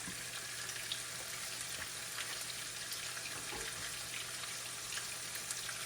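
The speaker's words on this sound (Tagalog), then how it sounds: "Igigisa muna natin itong meat guys." Frozen ground beef sautéing in a hot pan for chili, a faint steady sizzle and crackle with occasional small pops throughout.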